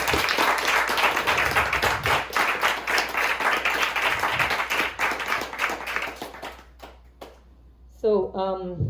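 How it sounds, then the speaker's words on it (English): Audience applause at a graduation concert, dense steady clapping from a crowd that fades out over several seconds before a voice begins speaking at the end. "Let's give him a big round of applause."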